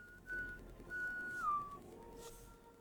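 Someone whistles a few short notes, then a sustained tone that slides downward, fairly clear over a quiet room background.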